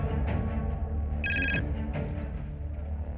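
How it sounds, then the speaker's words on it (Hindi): Telephone rings once in a short, bright electronic burst inside a crime drama scene, sitting over a steady low background hum. "11 तारीख की दोपहर को मेरी बहन का फिर से फोन आया।"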